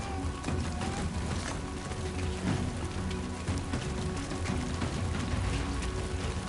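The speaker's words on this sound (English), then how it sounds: "I remember the rain destroys boxes" Steady rain falls in a video game, a dense even hiss of drops on surfaces that runs unbroken with no voices over it.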